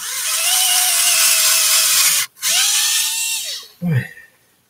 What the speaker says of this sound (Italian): A questo punto noi abbiamo forato